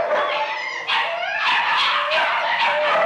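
A pack of dogs in a kennel room barks, yips and howls together in a radio drama effect, loud and continuous with overlapping cries and rising howls throughout.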